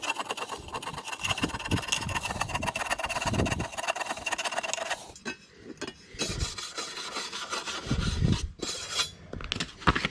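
Coarse wire brush scraping flaky paint off a rusty steel step bracket on a Jayco motorhome, heard up close as a steady, gritty rasping with repeated back-and-forth strokes, briefly pausing midway before resuming.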